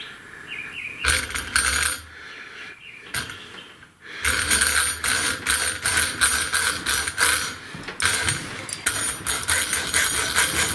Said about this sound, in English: Let's grab our hacksaw and we'll see how it cuts through